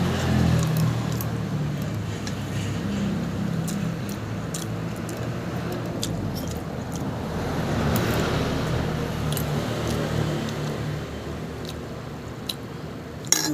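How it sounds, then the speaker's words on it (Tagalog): Steady road traffic passes in front of a gate, a continuous broadband wash of vehicles swelling and easing over several seconds, with small clicks and clatters nearby. "kaya yan naririnig yung mga sasakyan nandito kasi ako sa harap eh"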